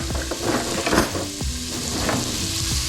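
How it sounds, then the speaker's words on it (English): Onions and peppers sizzle steadily in a pot, with a few soft scrapes and stirring knocks over the continuous frying hiss, close and moderately loud. "Now we're gonna add our onions and peppers."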